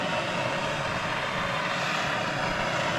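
An old Cletrac crawler tractor engine runs steadily on a cold day, a continuous, loud, even drone with a rough exhaust note and no pauses or voices.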